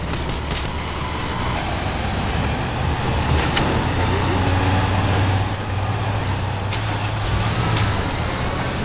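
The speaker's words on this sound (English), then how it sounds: "Okay, angry cars chasing me." Cars roar close by as they chase the player in the video game Teardown, with a continuous loud engine drone and road rumble and a few sharp knocks. No voices are heard.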